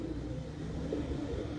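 Pigeons cooing softly at a loft, a low, steady murmur of several birds at moderate distance with no talk over it.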